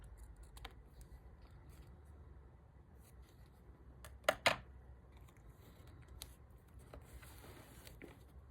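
Scissors snip a little off the bottom of something: two quick, sharp cuts close together stand out from near silence, with only faint handling rustles around them.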